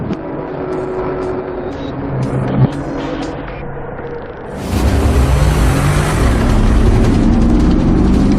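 Mercedes EQC electric powertrain in a 2020 Mercedes 4x4 Squared wagon starting its integrated idle sound, a steady hum that swells into a louder, broad, continuous whir partway through, heard from inside.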